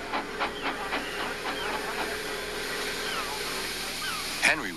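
Steady hissing of steam from a locomotive runs throughout, with someone narrating over it and a sharp burst near the end.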